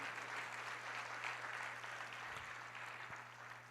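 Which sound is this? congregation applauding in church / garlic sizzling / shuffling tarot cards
congregation applauding in church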